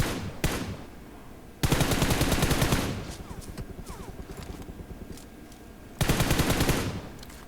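Automatic gunfire in the mobile battle royale game PUBG Mobile, two long dense rattling bursts with a single shot before them, loud and close, with a steadier clatter of game noise between the bursts.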